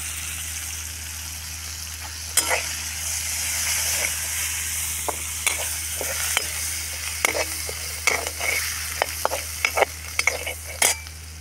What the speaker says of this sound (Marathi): तर हे मसाल्यामध्ये आता थोडा वेळ तळून घ्यायचे आहे